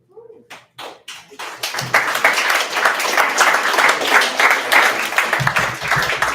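A few isolated claps at first, then the audience at a Poets & Pints poetry reading breaks into full, sustained clapping that stays dense and lively to the end.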